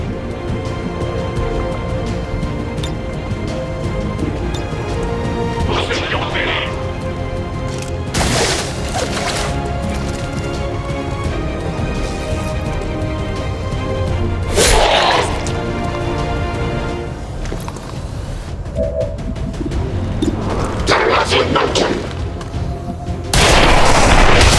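Weapon fire in XCOM 2: War of the Chosen: scattered heavy shots and booming impacts rise out of a dense, continuous game soundscape, several seconds apart and loud, with no voices.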